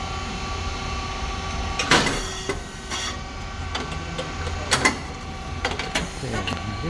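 A SYP4509 rice cake machine with coated moulds and a switch box starts up and runs, giving a steady mechanical hum with clanking and pneumatic bursts at intervals, close and fairly loud.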